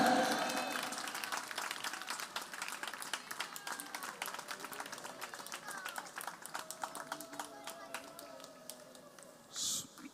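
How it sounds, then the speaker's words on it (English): An audience at a golden jubilee temple festival breaks into sustained applause, many hands clapping in a dense, steady patter that thins slightly toward the end, with a brief voice near the close. "Please clap."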